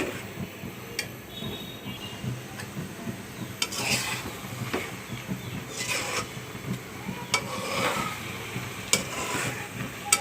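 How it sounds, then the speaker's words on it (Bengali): Mango pickle cooked down in a pan and slowly stirred, a soft continuous sizzle with scattered clinks and scrapes of a spoon against the pan, close and moderately loud, no talking. "এদিকে আমি আচারটা ভুনা করতেই থাকি"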